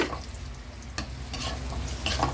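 Garlic fries in a pan for tilapia escabeche, a steady soft sizzle with a few sharp utensil scrapes and clicks against the pan, close by and without speech.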